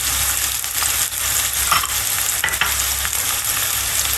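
Okra masala sizzling and frying in a pan while being stirred, a constant bright crackle broken by scraping strokes, close and loud with no talking.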